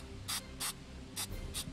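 Adhesive sprayed onto a pad, four short hissing bursts of an aerosol can spaced roughly evenly apart, close and fairly loud over a low room hum.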